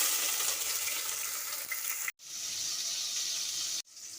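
Onions fry in hot oil in a pot for vegetable mushroom biryani, giving a loud, steady close sizzle and hiss that breaks off briefly twice, no talk.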